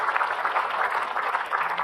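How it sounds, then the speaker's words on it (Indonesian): Studio audience applause greeting Ustadz Abdul Kafi on an Indonesian Islamic TV talk show, a steady wash of clapping heard alone throughout. "Tepuk tangan Ustadz Abdul Kafi."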